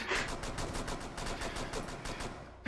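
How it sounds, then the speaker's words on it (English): Rapid, sustained machine gun fire in a video game, a dense rattling burst of shots that continues for a couple of seconds and ends with a sharper thump. "Freaking machine gun it."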